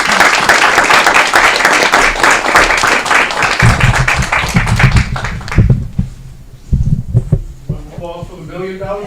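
A small audience at a federal transportation funding presentation applauds a $1 million check, brisk clapping filling the first half before thinning out, with voices and other room sounds taking over afterward.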